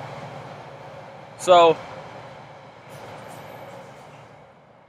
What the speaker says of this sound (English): there's also a train track right here. trains go by with people on them.